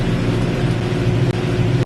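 A Landini C6-130C tractor engine labours under a 19-ton hauled load, a steady, loud, close diesel drone with a heavy low rumble and no voices.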